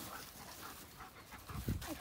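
A friendly male dog pants close by in quick, rhythmic breaths, with a brief whimper-like sound near the end; a person speaks softly over it.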